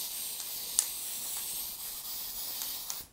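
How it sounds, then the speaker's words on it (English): Aerosol spray can hissing over a paper stencil onto paste for a damask effect: a steady, close, continuous spray running nearly the whole time, with a few brief pulses, before cutting off at the end. "So spray over the stencil"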